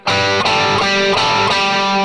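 Heavily distorted electric guitar plays a riff, loud and close, with sustained ringing chords and brief rhythmic re-attacks about every third of a second, no voice present.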